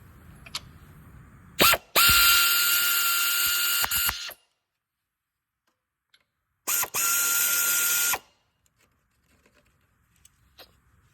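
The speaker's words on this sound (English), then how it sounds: "maybe even a 3/8 drive ratchet to get up in there" A 3/8 drive ratchet with a deep well socket turning on a 2005-10 Chevy Cobalt during a clutch replacement, two sustained bursts of rapid clicking, each a couple of seconds long, close and fairly loud with quiet between.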